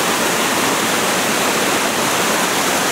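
Loud, steady roar of water rushing beneath a loose rope bridge, a dense broadband wash that stays constant throughout with no voices.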